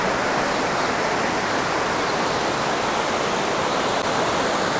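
The Ravi river rushes fast beneath bridges, producing a dense, unbroken roar of flowing water at constant loudness, heard on its own.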